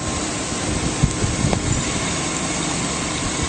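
A 2008 Hummer H3 Alpha's 5.3-liter V8 idles with a steady, low hum, even throughout, smooth and fairly quiet, with a few faint clicks near the middle.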